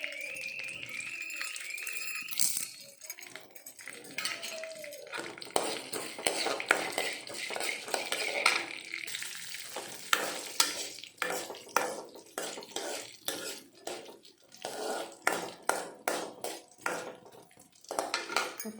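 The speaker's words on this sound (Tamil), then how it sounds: "உளுத்தம்பருப்பு போடுறேன்." Urad dal frying and being stirred in a pan for tomato chutney, with repeated metallic scrapes and clinks of a spoon against the pan forming a busy, uneven rhythm close up, and no talking.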